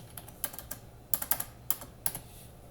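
Keys clatter on a computer keyboard in short, irregular bursts of crisp, close clicks, roughly a dozen strokes with brief pauses between.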